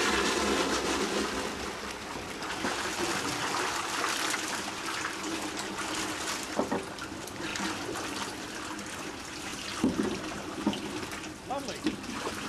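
Water gushes out of a fish-stocking tank as its gate opens at a lake, releasing fish in a steady, loud rushing flow with occasional splashes.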